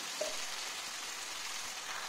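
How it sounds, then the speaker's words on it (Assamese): Chicken and spice paste fry in hot oil for an herb chicken dish, a steady, soft sizzle that hisses on evenly with no talking. "এয়া চাওক, ভাজি আছোঁ।"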